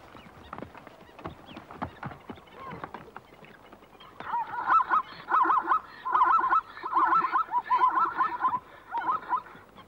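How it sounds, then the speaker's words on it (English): Blacksmith plovers call at a waterhole in Etosha, sharp metallic clinking notes repeated in quick loud bursts, preceded by softer scattered taps and rustles. "A pair of blacksmith plovers has decided to nest right at the water's edge."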